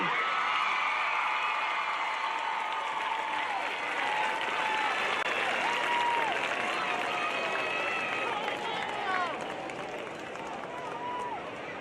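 A large crowd at the Gulfport High School homecoming game against Biloxi applauds the homecoming queen, a long, even wash of clapping and cheers with a voice over a loudspeaker running through it.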